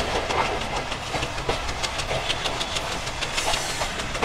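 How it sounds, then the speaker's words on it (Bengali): The Mongla Commuter train, hauled by an Indian WDM-3 diesel locomotive out of Benapole, rolls along with a steady close rumble, rhythmic clickety-clack of wheels over rail joints and an airy hiss throughout. "আর ভারতীয় WDM-3 এর সাথে চলছে আমাদের আজকের মংলা কমিউটার"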